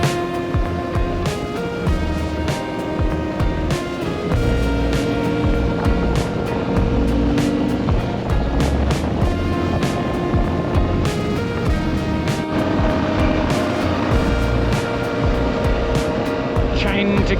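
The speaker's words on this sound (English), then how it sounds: "Chained together an overtake of about 6 of these trucks, all just palm oil trucks. Terribly tuned diesel palm oil trucks." Terribly tuned diesel palm oil trucks on a road in Borneo, about six overtaken in a row, with steady loud engine and road roar throughout, rising and falling engine tones as each truck is passed.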